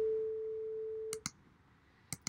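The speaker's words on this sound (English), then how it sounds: "you should be able to hear a sine wave." A steady pure sine test tone from Pure Data sounds alone for about a second, then stops, leaving faint room noise broken by a few soft clicks.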